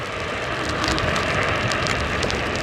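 Steady rain hisses and patters throughout during a wet test ride on a Yume Hawk Pro 60V electric scooter, a dense continuous wash with no voices.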